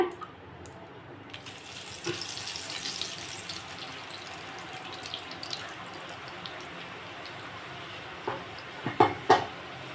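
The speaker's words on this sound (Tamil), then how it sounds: "இந்த எண்ணெயோட சலசலப்பு நிற்கட்டும்" Moong dal ribbon pakoda fries in hot oil with a steady, close hiss of sizzling bubbles that gradually settles, and a few sharp clinks near the end. No voices are heard.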